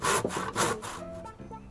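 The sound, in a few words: saw cutting spare piece of wood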